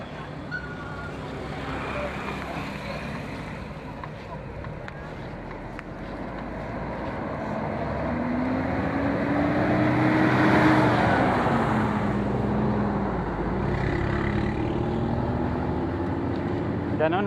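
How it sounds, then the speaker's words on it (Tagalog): A bus follows behind on a road by Patapat Bridge in Pagudpud, Ilocos Norte, its engine rumble and road noise rising and swelling steadily under a continuous wash of traffic sound, with a low tonal whine midway. "Meron lang bus na sumusunod."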